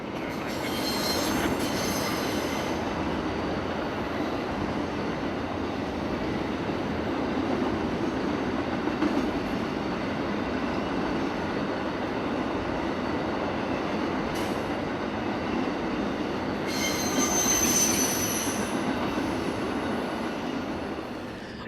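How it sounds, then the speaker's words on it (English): Half-freight train with new auto racks rolling past in Sanford, Florida, a loud, continuous smooth rumble and hiss with faint wheel squeal bursts near the start and end, no voices. "It sounds more like a jet than a string of rail cars. And this train is half freight. Those new auto racks glide along as quietly as superliners."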